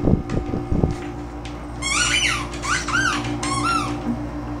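A squeaky toy squeaks in a home, three bursts of bright rising squeaks in quick succession following a few low thumps, over a steady background hum.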